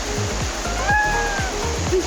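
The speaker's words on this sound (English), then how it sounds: "I'm at the bottom of Dudhsagar Waterfalls right now, and this is such a great experience" Dudhsagar Waterfalls in Goa roars steadily from the bottom of the falls, a loud continuous rush of water with low rhythmic pulses and a faint tonal whine passing through.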